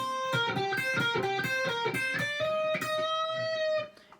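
An electric guitar plays a section of a riff as a string of picked, ringing note groups. It ends on a held note that cuts off, with no talking.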